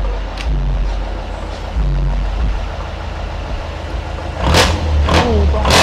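A Philippine jeepney engine with twin mufflers idles loudly and roughly, then revs up in a few sharp bursts near the end, close and throaty.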